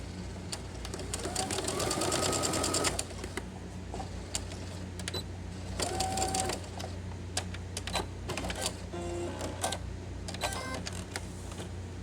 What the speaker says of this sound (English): So I'm just going to stitch a straight stitch across here.